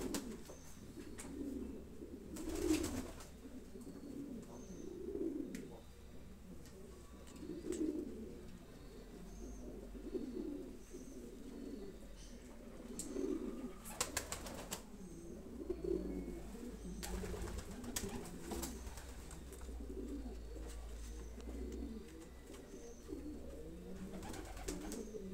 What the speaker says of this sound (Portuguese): Um senhor pombo, né, gente?